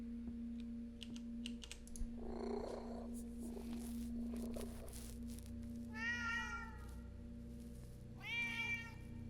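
Cat in a video game purring softly, then giving a few short, bright meows; faint keyboard typing clicks and a steady electronic hum sit underneath, no speech.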